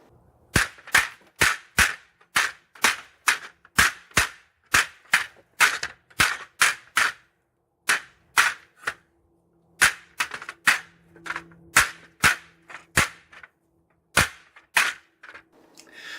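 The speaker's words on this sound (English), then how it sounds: "it is really hard to hit that bamboo when it's bouncing around" A SOG Camp Axe with a keen edge chops at swaying bamboo in quick, sharp strikes, about two dozen loud cracking hits that come in bursts with short pauses, each a crisp transient close by.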